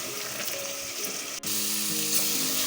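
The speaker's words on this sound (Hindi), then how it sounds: "अब मैं इसमें ऐड कर रही हूँ यही लिक्विड, और इसको डालते वक्त चलाते रहें ताकि इसमें गुठलियाँ ना बने" Chicken nihari sizzling and frying in a pot as a liquid paste is poured in and stirred, a steady close hiss with a brief dip midway before the sizzle swells again; no talking.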